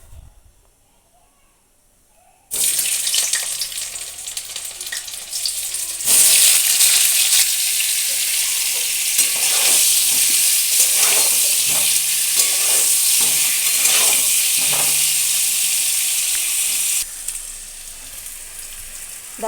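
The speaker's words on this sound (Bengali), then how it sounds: "এবার আমি এর মধ্যে আলুগুলো ভেজে নেব।" Potatoes drop into hot oil in a wok and burst into a loud, steady sizzle that swells after a few seconds, with occasional stirring scrapes, close up.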